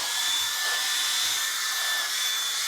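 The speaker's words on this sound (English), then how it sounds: "it's transforming, hence transformer, into a handheld vacuum cleaner" A Shark Transformer handheld vacuum cleaner whirs steadily at close range with a high-pitched motor whine, continuous and unchanging for a few seconds.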